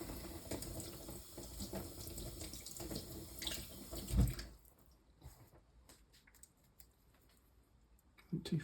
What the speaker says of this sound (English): So I just wash the mint.